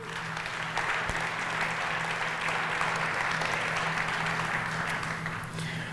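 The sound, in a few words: audience applause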